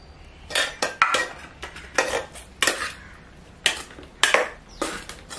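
A spoon stirring tamarind rice in a metal pot, giving a series of sharp clanks and scraping knocks at an irregular rhythm, close and clear in a quiet kitchen.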